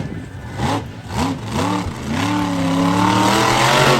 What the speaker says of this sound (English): He's driving the original monster truck